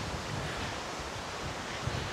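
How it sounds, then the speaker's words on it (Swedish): Wind blowing across a lakeside campsite beach, a low continuous rush with soft gusting and a faint rustle, steady and moderately loud, no voices. "Blåser lite och inte jättevarmt."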